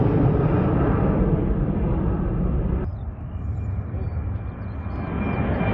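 A Norwegian Airlines Boeing 737-800 roars past at Bergen Flesland airport, a loud broadband jet rush that drops off suddenly partway through and leaves a softer lingering engine hum.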